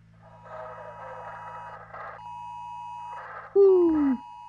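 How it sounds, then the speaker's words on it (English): An alarm going off in the horror video game Unspoken, a loud electronic beeping tone sounding near and alone over a low hum and faint radio chatter. "Alarm going off."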